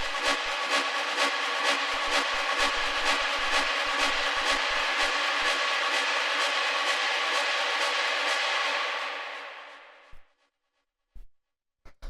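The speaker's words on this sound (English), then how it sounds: "the next sound here would be this little metal sound in the build-up" A small metallic percussive tick repeats in a steady driving rhythm over a dense, noisy techno build-up, loud and continuous before fading out near the end.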